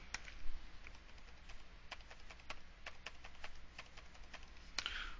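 Rapid keystrokes on a computer keyboard as card payment details are typed in, a steady patter of light clicks against faint background hiss, close and without talk.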